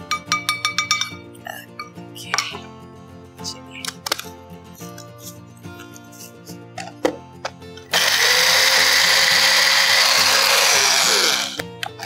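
A mixer grinder whirs loudly and steadily for several seconds as it grinds roasted spices and oats, after a run of kitchen clatter and knocks.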